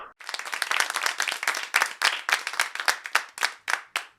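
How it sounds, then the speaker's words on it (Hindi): A studio audience on a talk show applauds, a close, bright burst of many hands clapping that thins into a few uneven claps as it fades near the end. "तालियां"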